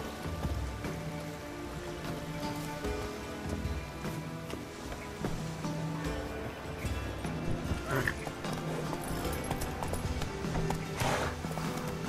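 Roach, a horse in The Witcher 3, gallops with rhythmic hoofbeats under rain and a dense layer of game music and ambience, with an occasional whinny-like call.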